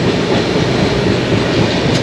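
A Paharia Express passenger train runs along the rails with a steady, loud rumble and a dense clatter of wheels throughout, with no voices over it.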